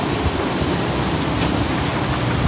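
Floodwater from a river surges in a dense, continuous roar during Typhoon Marce, loud and steady with no pauses and no voices.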